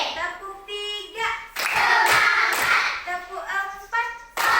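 A group of children claps hands in counted sets, bursts of sharp claps between spoken counting, loud and close, with voices talking in between.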